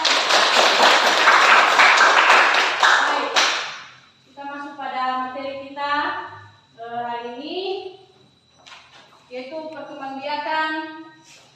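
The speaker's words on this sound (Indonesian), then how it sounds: "Berikan tepuk tangan" Students clap together in a classroom, a dense burst of applause for a few seconds that stops abruptly, followed by a teacher talking.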